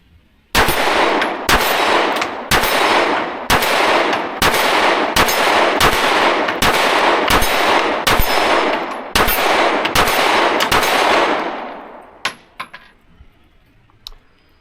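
A Daniel Defense H9 pistol fires at a 20-yard target, about fourteen loud, sharp shots in a steady string, each ringing briefly before the next, then silence after the final shot.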